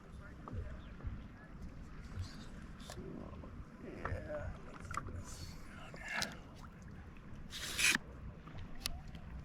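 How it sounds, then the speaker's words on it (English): A canoe or kayak is paddled on Comox Lake, with soft splashes and knocks of the paddle strokes heard faintly under nearby talking. "Paddle a bit."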